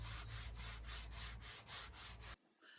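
An electric sander works over the wooden surface of a vintage art deco table with damaged veneer, a loud, steady abrasive rubbing that surges in regular passes for over two seconds before cutting off abruptly, followed by a faint brief rub.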